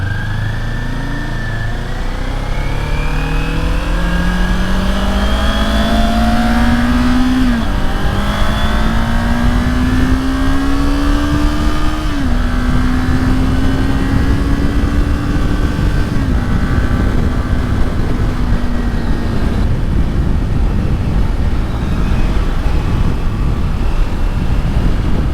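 Stop-and-go city traffic on a street lined with buildings and shops, a car engine revving up through repeated gear shifts as it accelerates, loud and close, over steady road rumble with no talking.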